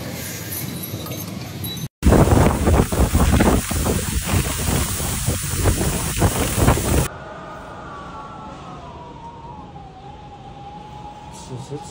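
A severe convective storm with heavy rain strikes southern China: a loud, dense roar of wind and pouring rain fills several seconds, then cuts to a quieter scene where a wailing siren rises and falls over a low background hum.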